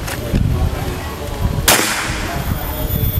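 A single sharp, loud shot from an FX Crown PCP air rifle fitted with a Dural series 7 barrel and firing BM pellets on a slow power setting, cracking once mid-clip over steady background noise.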